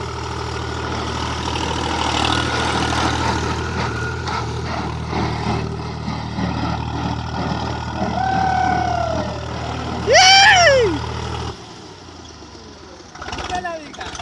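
An HMT 3522 tractor engine idles with a low steady rumble that cuts out near the end, with shouting voices and a bird call over it.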